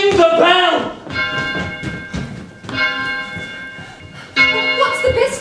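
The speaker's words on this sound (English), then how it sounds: "Ring the bell!" An alarm bell clangs loudly in a stage production of Macbeth, with several ringing strikes repeating in bursts over about five seconds while voices sound around it.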